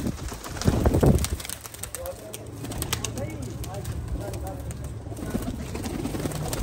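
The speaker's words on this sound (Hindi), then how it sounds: "देखो कबूतर सारे तुहाडे सामने भाई।" Pigeons cooing at a pigeon seller's stall, low soft coos running steadily under someone talking, with a few brief wing flutters and other birds faintly in the background.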